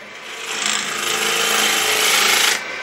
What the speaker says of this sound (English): I like going to the scraper for doing the bottom of these bowls. Just a round nose scraper.